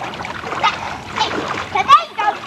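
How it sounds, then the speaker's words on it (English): Water splashes loudly in short bursts outdoors at a Fourth of July gathering in Sac City, while children and adults talk over the splashing. "It splashed my ear off."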